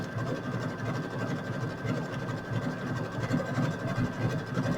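An embroidery machine stitching in the ditch with thick thread, using an N foot for back-and-forth decorative stitching on a crazy quilt, makes a steady, close mechanical whir with a fast, even rhythm that runs the whole time.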